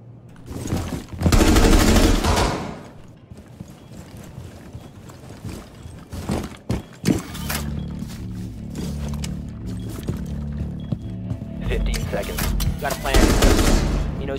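Bursts of gunfire in a Fortnite 2v2 wager match, with loud clustered shots near the start and end and game noise and a low droning hum between them.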